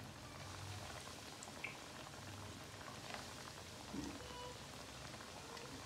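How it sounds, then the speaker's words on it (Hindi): Chicken popcorn deep-frying in hot oil, a steady dense sizzle and bubbling hiss with small pops, close and continuous throughout, no talking. "अब इसके अंदर 1 by 1 हम अपने चिकन पॉपकॉर्न ऐड करते जाएंगे, और इसको हमने गोल्डन ब्राउन कलर तक इसको फ्राई करना है"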